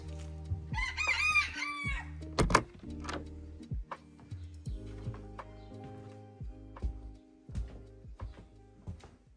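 A farm rooster gives one loud, close crow near the start, followed by scattered clucks and bird calls over a quieter background of engine hum and occasional knocks.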